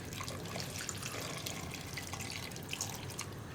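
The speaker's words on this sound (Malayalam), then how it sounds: "പിന്നെ വെള്ളരിക്ക കുക്കാവാൻ ആവശ്യമായിട്ടുള്ള വെള്ളം." Water poured into a pot of chopped cucumber for a Kerala vellarikka pulissery, a steady splashing trickle running close and continuous for a few seconds with no talk.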